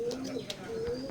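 An Oman blood line teddy pigeon coos softly in a low, wavering tone, a brief faint call against a quiet background.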